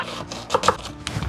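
A knife chopping onion finely on a board, a quick run of close, crisp taps and scrapes over about a second, with no talking.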